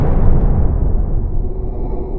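A supernova explosion sound effect rolls out as a deep, loud, rumbling boom that stays heavy through its length and fades slowly, with no voices.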